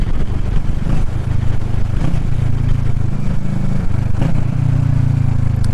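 A Kawasaki Ninja 650 motorcycle rides along with a steady, loud engine drone and wind noise, its pitch shifting as the throttle changes through the run, no voices over it.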